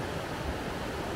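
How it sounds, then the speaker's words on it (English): Rushing water of a small cold mountain stream on the Appalachian Trail in Maine, a dense, steady close-up hiss with no pauses or voices. "Look at this nice little stream."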